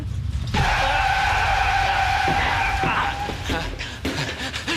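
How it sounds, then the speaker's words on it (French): A car brakes hard and skids, its tires squealing in a long, loud, high screech for about three seconds before breaking into shorter chirps as it slows, with a voice briefly heard. "Mais on freine, Bob, Bob, on freine!"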